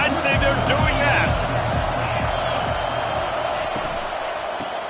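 Stadium crowd at an Oregon versus Miami football game roars steadily throughout, a dense, constant wall of cheering with sharper thumps and bursts near the start, gradually easing slightly in volume.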